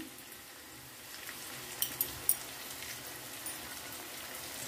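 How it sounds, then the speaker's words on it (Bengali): Chopped garlic frying with onions in a pan for chilli chicken gives a soft, steady, rain-like sizzle with a few sharp little pops near the middle, quiet and close, with nobody talking. "পেঁয়াজটার মধ্যে আমি এবার রসুন কুচি দিয়ে দিলাম।"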